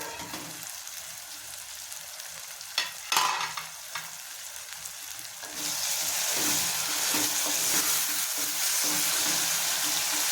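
Tomatoes frying in a pot for mutton curry, a soft sizzle with a couple of sharp knocks early, then a louder, denser frying hiss once the lid comes off partway through.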